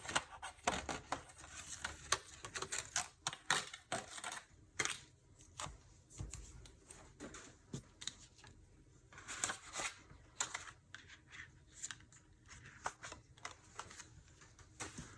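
Scissors cut through scrapbooking paper close by, producing a long run of quick, irregular snips and crisp rustles for over fifteen seconds, fairly faint and without any talking.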